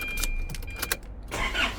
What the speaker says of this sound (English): We'll start this one up.